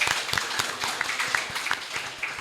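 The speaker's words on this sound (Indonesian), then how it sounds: "Tepuk tangan buat sekolah kita semua." Applause for the schools at a civic gathering in Cilegon, a dense spread of clapping from a crowd running steadily throughout, with sharper individual claps standing out against the wash.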